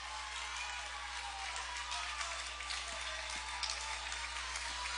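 Broadband crowd roar from spectators on their feet at a Bowdoin versus Williams college football game, a steady wash of cheering and applause held level throughout with a few brief claps poking through.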